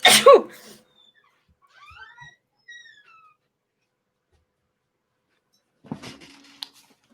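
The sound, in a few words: sneeze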